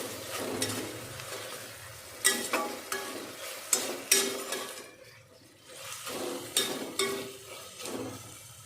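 Chicken frying in a pan for chicken palava as it is stirred, a watery bubbling sizzle with a run of clattering spoon strokes against the pan in uneven bursts, close and moderately loud.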